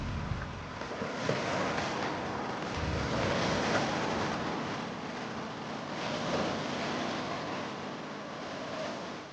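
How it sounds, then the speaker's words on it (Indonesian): Waves wash gently against a sandbar off Pulau Muna in the Thousand Islands, a soft continuous surf mixed with steady wind rumble on the microphone, without any talking. "menikmati suasana hingga mendengarkan suara desir ombak"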